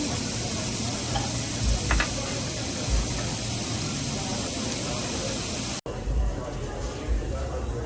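Korean BBQ meat sizzles on a restaurant table grill as a steady, loud hiss that fills the whole stretch, with a few faint knocks and a brief dropout near the end.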